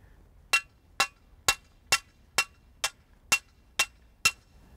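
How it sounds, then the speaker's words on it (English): A heavy hammer strikes a fence post nine times during an electric fence installation, each sharp clanging blow evenly spaced about half a second apart, loud and close against near silence. "this heavy hammer."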